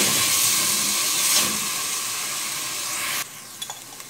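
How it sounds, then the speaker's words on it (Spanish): Bell pepper sautéing in a pan for an Ecuadorian refrito, a steady sizzle and hiss with light stirring, close and even, then a drop in level near the end followed by a few small clicks. "Vamos a agregar el pimiento, es un pimiento."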